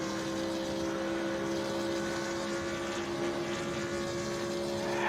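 A race car engine in a racing video game at Autodromo di Monza drones at a steady high pitch, a sustained even whine with constant loudness and no speech over it.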